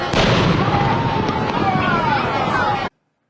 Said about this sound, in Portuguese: uma salva de tiros de canhão disparados do Forte de Copacabana